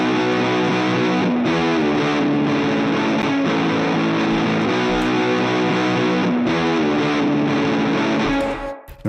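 Heavily distorted electric guitar with chorus-like effects plays sustained chords, loud and dry, ending abruptly.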